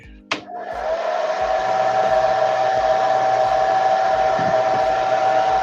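Hot air tool switched on with a click to heat an action figure's coat, then a steady loud whooshing blower hum with a whine, running continuously close by.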